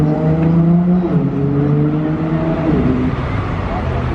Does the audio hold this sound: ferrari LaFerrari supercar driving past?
yes